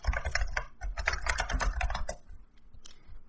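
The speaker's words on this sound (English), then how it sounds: "We just type google.com" Quick bursts of keystrokes on a computer keyboard as a web address is typed, close and steady clicking with a short pause near the end.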